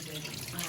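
Water is poured from a bucket into a plumbing pressure test pump, giving a steady, fairly loud gushing splash that runs unbroken for the whole moment.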